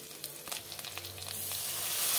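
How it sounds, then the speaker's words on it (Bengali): Whole garam masala, chopped onion, ginger garlic paste and ground coriander, cumin and turmeric frying in mustard oil, a close steady sizzle with a few light stirring scrapes that swells slightly toward the end; no voices. "মশলাটাকে কষিয়ে নেব।"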